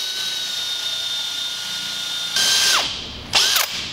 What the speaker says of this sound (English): I'm drilling a hole for the vent in the vented loop coming from the black water tank